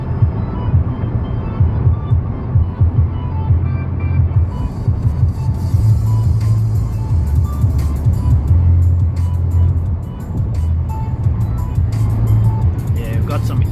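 Cabin drone of a Maruti Ignis EV with a 23 kWh battery cruising at about 95 km/h on a highway: a steady low rumble of road and wind noise with a faint hum throughout.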